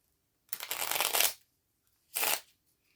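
Two bursts of a mini tarot deck being shuffled up close, a longer riffling flurry followed by a short second one, with quiet between.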